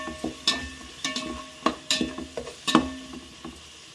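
A spoon scrapes and knocks in a pan as cut tomato pieces are stirred into spiced chicken khichdi, with irregular close clacks over a soft sizzle and no talk.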